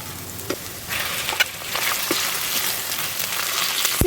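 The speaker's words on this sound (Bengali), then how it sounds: "এখন আমি এর মধ্যে চিকেন দিয়ে দেব।" Chicken pieces sizzle and crackle steadily in hot oil with browned chopped onion for a mung dal bhuna, a dense close frying hiss with a few sharper pops and stirring scrapes, no talking.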